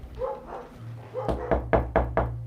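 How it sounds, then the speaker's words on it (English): Knocking at a door, a quick series of about five sharp raps, fairly close and distinct, with a low steady hum and some faint voice-like sounds just before it. "I think someone's knocked at the door"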